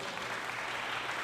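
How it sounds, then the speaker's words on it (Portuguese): Church congregation at a preachers' congress claps together in a brief, dense burst of applause that stays even and fills the room, with no voices over it. "Vocês querem aplaudir?"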